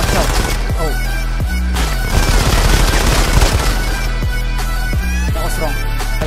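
Rapid automatic gunfire from the mobile shooter Modern Combat 5 during a squad battle, with loud, dense bursts and sharp single shots that continue through the whole clip. No speech is heard.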